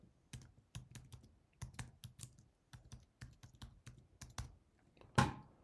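Computer keyboard typing as a comment is entered, steady irregular bursts of keystrokes close up, with one louder final key press near the end.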